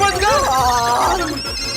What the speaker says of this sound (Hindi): अरे बाप रे, दादाजी का फोन।